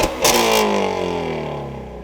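A 2017 Ford Mustang GT350 with its exhaust button engaged gives a loud, close rev that flares sharply and then winds down in a long falling drone over about two seconds.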